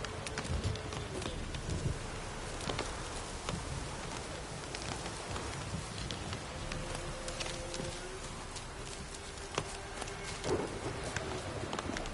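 Roach the horse galloping in The Witcher 3, a faint rhythmic clatter of hoofbeats amid a wash of rain and ambient game noise, distant and soft with no speech.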